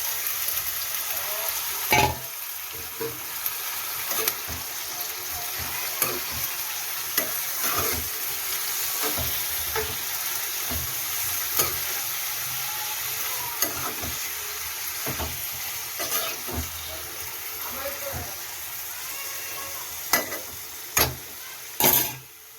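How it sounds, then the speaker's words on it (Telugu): Tomatoes cook in a pan for tomato curry, a continuous close sizzle and frying hiss broken by repeated stirring scrapes, with a few sharper clinks toward the end. "ఇట్లా మగ్గుతున్నప్పుడు ఇగో టమాటా వేసేసుకోవాలి."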